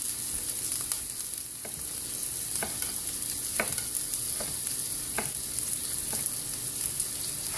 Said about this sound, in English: And then I just throw them in the pan as I go.